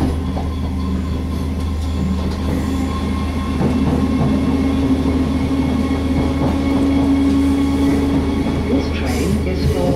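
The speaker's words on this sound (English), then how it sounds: "So we're going to get on this train" Train running on the Merseyrail line toward New Brighton near Birkenhead North, a steady close rumble and rolling wheel noise with faint squeals, continuous and loud throughout.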